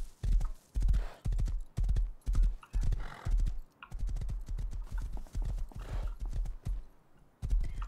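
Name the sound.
horse hooves clip-clopping in video game Rust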